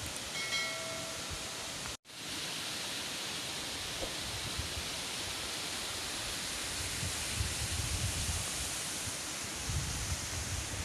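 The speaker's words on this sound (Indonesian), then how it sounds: "Ada air terjun kecil." A small waterfall fed by an irrigation channel in Ngancar village, Magetan, East Java, gives off a steady, even rushing of water that holds constant, broken only by a momentary dropout early on.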